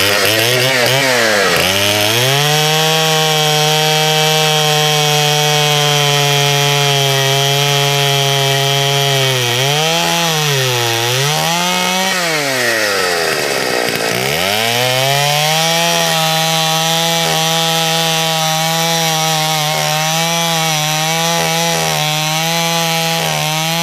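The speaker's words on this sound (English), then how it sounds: "we're going to cut this off the stump." A chainsaw cuts a storm-fallen tree off its stump. The engine holds a loud, close, sustained whine under load, with brief dips and revs partway through as the cut continues, and no talking.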